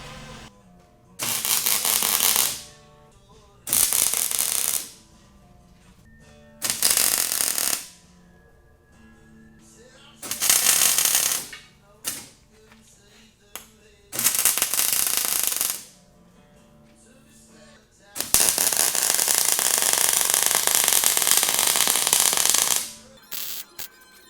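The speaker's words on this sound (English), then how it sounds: "I'm just going to weld downhill to seal the gap, and then I'm going to flip this over" Welding downhill along the seams of an Empire Glass Beader blast cabinet produces six close, sustained crackling bursts of a few seconds each, separated by quiet pauses, the last burst the longest.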